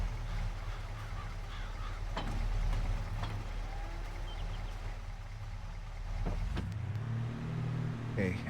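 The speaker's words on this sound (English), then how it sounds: "But finally, this car is getting some use." A car drives in a farming roleplay video game, a quiet, steady low engine hum with faint clicks and a gear shift near the end, heard alone without talk.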